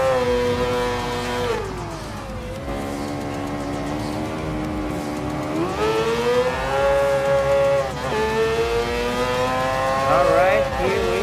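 A Mazda 787B race car in Gran Turismo Sport wails at high revs, its rotary engine pitch rising through the gears, dropping on shifts and braking, then climbing again, with a voice speaking over it.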